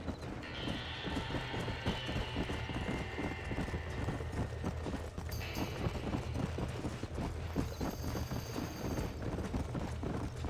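Horses gallop with steady, rapid clip-clopping hooves near a burning barn in the Red Dead Redemption game, with occasional whinnies rising over a continuous rumbling background.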